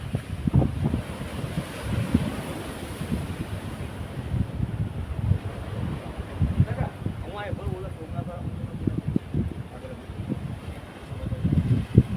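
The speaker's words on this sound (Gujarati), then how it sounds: "બબ્બે માળ જેવડા મોજા ઉછળી રહ્યા છે" Large sea waves surge and crash along the coast at Somnath, a steady roar of surf churning with wind buffeting the microphone, while someone talks over it.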